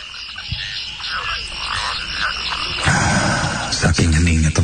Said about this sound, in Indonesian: aku dibangunkan oleh suara-suara katak dari sawah yang ada di belakang.